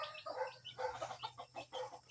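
Chickens clucking close by in quick rhythmic bursts, a steady series of short hen calls with no talking.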